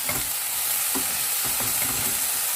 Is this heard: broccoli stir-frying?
yes